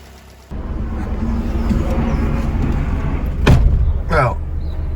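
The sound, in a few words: small car engine running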